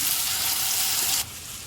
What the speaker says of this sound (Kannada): ಈಗ ಚಾಪ್ಡ್ ಟೊಮ್ಯಾಟೊ ಹಣ್ಣನ್ನು ಹಾಕ್ಕೊಳ್ಳೋಣ.